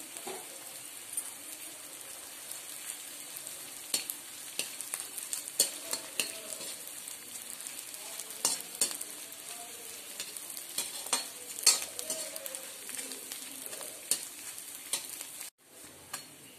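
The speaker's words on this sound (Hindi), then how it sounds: "तो अब घी गरम हो चुका है तो अब मैं इसमें गोंद डाल दूंगी" Edible gum (gond) frying in hot ghee, a steady, fine crackling sizzle punctuated by sharp pops and occasional stirring scrapes, moderately close and without any speech.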